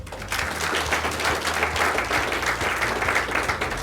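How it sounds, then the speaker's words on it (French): Audience applause at an energy company's award ceremony in Côte d'Ivoire: steady dense clapping from a large crowd, sustained and fairly loud for about four seconds with no speech over it. "M. Yves Yao Konan, que je vous demande d'applaudir,"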